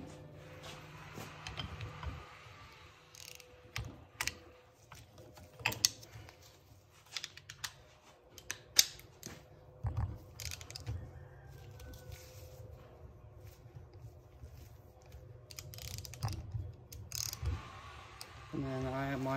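Special pliers crimping an axle boot clamp on a VW/Audi CV axle: sparse metallic clicks and snaps with small ratcheting squeaks between quiet pauses, close by and fairly soft.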